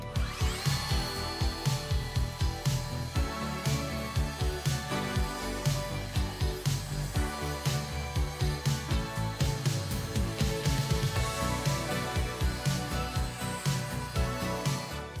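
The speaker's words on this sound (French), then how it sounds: "on la passe la ponceuse pour relisser un peu" A belt sander grinds steadily against aerated concrete, with a rapid, pulsing rasp and no talking.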